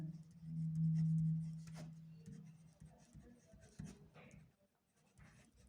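A pen writes a math answer on paper, scratching softly in short strokes with pauses between them, quiet and close, with faint background hum.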